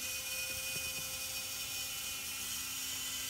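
A quiet, steady machine whine of a CNC spindle drilling holes at a set feed rate, with a constant hum and a few faint low thumps early on. No voices.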